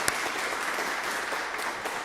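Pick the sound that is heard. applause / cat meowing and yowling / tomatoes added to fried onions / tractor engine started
applause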